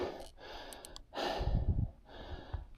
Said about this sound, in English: Already breathing hard again.